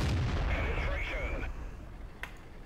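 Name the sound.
tank cannon shot in video game World of Tanks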